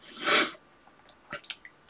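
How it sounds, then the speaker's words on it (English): A short, breathy snort-like sniff followed by a few quick, lighter sniffles, close and fairly loud. "Excuse the sniffling, I have a slight cold."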